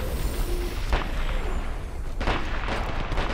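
Gunfire in the shooter Dirty Bomb, sharp shots cracking out over a steady noisy battle background, with a couple of louder bursts spaced apart.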